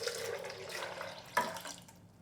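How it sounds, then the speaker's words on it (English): Cold water poured into a soybean mixture for Korean soy milk noodle soup, a steady splashing stream that runs for about two seconds with a brief louder gush near the end, then tapers off. "And then I will add 3 cups of cold water."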